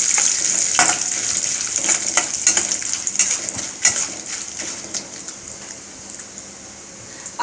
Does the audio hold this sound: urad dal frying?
yes